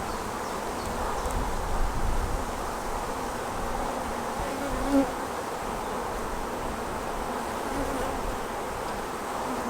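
A steady, dense buzzing of many honey bees around hive boxes, continuous and fairly close, with no talking.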